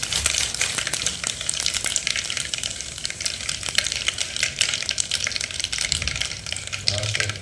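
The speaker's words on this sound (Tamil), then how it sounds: "கடுகு போட்டுக்கலாம். கடுகு ஒரு 2 கிராம் லெவலில் போட்டுங்க." Mustard seeds frying in hot oil in a pan at the start of a fish curry, a steady broadband sizzle with scattered crackles and pops running throughout, close and fairly loud, with no talking.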